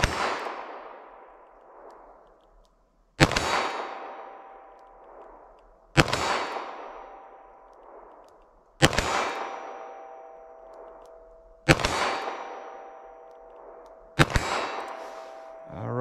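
A .22 Magnum revolver fired with Hornady Critical Defense rounds during a ballistic test, six sharp loud shots spaced roughly two to three seconds apart, each with a ringing decay, no talking.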